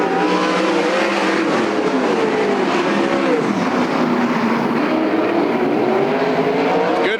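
Sprint cars roar back to speed on a restart at Sunset Speedway Park during a Western Sprint Tour race, several loud engines blending into a continuous, rising howl at close range.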